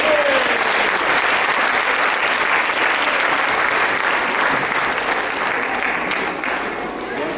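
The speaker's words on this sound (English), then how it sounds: "Let's give all the actors another round of applause." Sustained, loud applause from an audience, steady clapping throughout that tapers slightly near the end.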